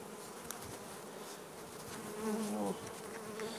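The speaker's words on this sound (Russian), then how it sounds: "В этом, конечно, пчелы побольше." A dense, steady buzzing of many bees close by, with one louder bee droning past midway.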